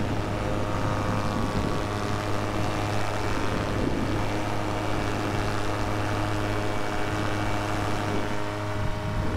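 A paramotor engine drones steadily in flight, a continuous close propeller hum with strong low tonal buzz and wind rush, unbroken for the whole stretch.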